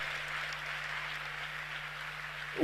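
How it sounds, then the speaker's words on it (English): Faint, steady applause from an audience at a youth dialogue session in Ghana, a soft continuous patter of clapping heard from a distance with a low electrical hum underneath. "give yourselves all a big round of applause"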